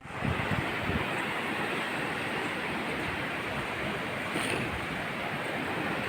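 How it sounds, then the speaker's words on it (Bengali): Surf rolls onto Kudle Beach at Gokarna, Karnataka, a continuous wash of breaking waves at moderate distance, fairly soft and unbroken, with no one speaking. "গোকর্ণের বিখ্যাত কুডলে বিচ"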